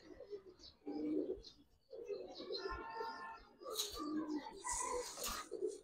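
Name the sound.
Giribaz pigeon cooing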